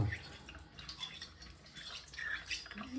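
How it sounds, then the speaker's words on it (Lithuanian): Running water trickles and drips softly as a Nakayama Asagi sharpening stone and a Globusmen First Class 46 straight razor are rinsed, a faint, continuous splashing with small uneven spatters and no voices. "Po vandenį dar viską nuplaunam"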